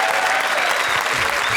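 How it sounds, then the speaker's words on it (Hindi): Studio audience applause on a comedy TV show, a loud, even burst of many people clapping, close and continuous for a short stretch with no speech on top. "तालियां"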